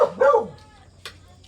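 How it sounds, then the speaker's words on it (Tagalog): Pet dogs bark and yip noisily in a home during a nighttime brownout, with a couple of sharp, close barks followed by a brief higher yelp. "yung mga alaga ni Sir Vincent ang iingay"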